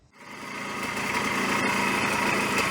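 A 1975 AMF Harley SX250 two-stroke motorcycle engine catches and settles into a steady, buzzing run, rising in loudness over the first second and then holding a constant high-pitched drone up close with no talk.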